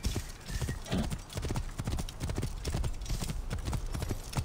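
Horse hooves clip-clop steadily in a brisk rhythm, close and fairly loud, with faint background game ambience in Assassin's Creed Origins.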